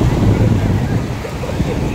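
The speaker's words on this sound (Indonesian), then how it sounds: "Ini ombaknya, kalau nggak tahu apa nama ombaknya ini, ombaknya ini kalau saya perhatikan nggak terlalu besar" Moderate ocean waves, neither large nor small, wash steadily onto the beach at Teluk Bayu, with a continuous rushing roar and wind buffeting the microphone throughout.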